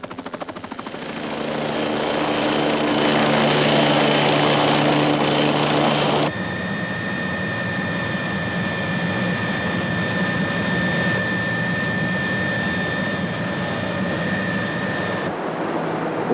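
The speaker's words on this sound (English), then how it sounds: "the helicopter of the Canadian Coast Guards drops off one of the keepers starting duty" A Canadian Coast Guard helicopter at a Maine coast lighthouse gives a loud, steady rotor and engine drone. Its tone shifts partway through, then the sound holds at a fairly constant level.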